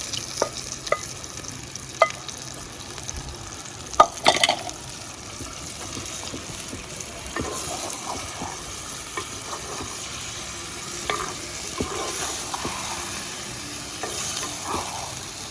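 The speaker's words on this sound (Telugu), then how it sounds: "ఇప്పుడు మ్యారినేట్ చేసుకుని మటన్ వేసేసుకుందాం." Marinated mutton tipped into softened onions in a clay pot for a village-style curry, giving a steady close sizzle and frying crackle with occasional sharp clinks and scrapes of stirring.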